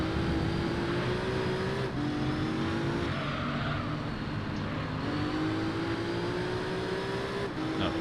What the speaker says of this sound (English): You can hear the thunder of these engines in front of me now.